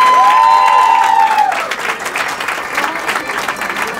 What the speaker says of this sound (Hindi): आप शुक्रिया अदा करोगे आपके तालियों के जोर से